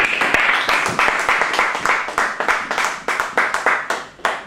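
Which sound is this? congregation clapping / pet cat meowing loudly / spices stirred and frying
congregation clapping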